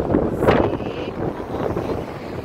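Steady wind buffeting an outdoor microphone, a broad low rumble with gusty swells, fairly loud and continuous, with no clear talk.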